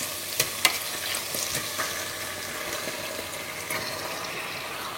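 Salt-cured pork drops into hot oil and masala for Goan pork vindaloo, raising a close, steady sizzle with a couple of sharp clacks and light stirring scrapes, no voices.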